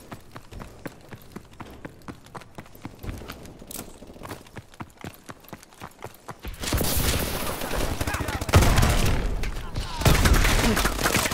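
Shotgun fire in the video game Call of Duty Advanced Warfare, with rapid sharp clicks and blasts followed by a louder, denser stretch of gunfire and explosions in the second half.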